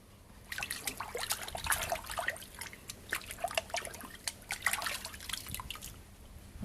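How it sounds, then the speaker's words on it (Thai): Salted striped catfish being rinsed by hand in a basin of water, giving repeated close splashes, drips and trickles in an uneven rhythm, with no talk. "ล้างออกจากเกลือเม็ดนะคะ"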